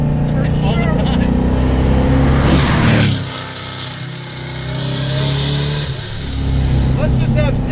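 An LS-powered 1988 Mitsubishi Starion with a 515 hp built engine drives hard, its loud engine rising, then dropping off at a shift before climbing again, with a voice talking over it.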